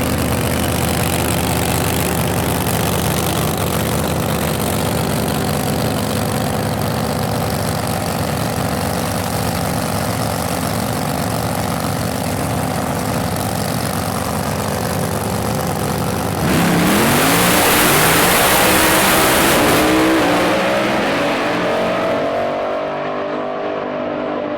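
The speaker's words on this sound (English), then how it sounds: "Well, it's a Hemi, so it's a Brad Anderson built Hemi. It's got Noonan cylinder heads on it, PSI supercharger" A supercharged Brad Anderson-built Hemi drag car engine with Noonan cylinder heads and a PSI supercharger idles loudly with a rough, lumpy rumble, then revs sharply near the end, the pitch climbing before it settles back down.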